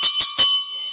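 Bicycle-style bell dings three times in quick succession, bright and close, followed by a fading metallic ring.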